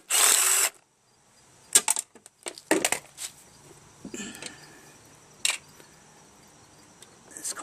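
Tools work on a Briggs & Stratton auto choke lawnmower carburetor with a 3/8 socket wrench: a short burst of whirring, then scattered metallic clicks, ratchet ticks and clinks of parts being handled.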